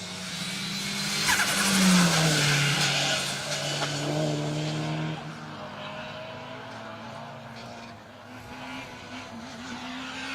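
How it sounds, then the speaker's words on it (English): A rally car slides through a left-hand bend on a special stage at Rally Wervik, its engine note rising and falling with tyre noise, loud and fairly close, while a commentator talks over it. "And Bramfontein getting a little bit leery on that left-hander."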